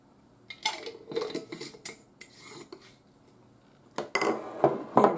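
Chicken salad being mixed in a bowl with garlic powder, giving scattered scraping and clinking of utensil against bowl in irregular bursts, louder near the end.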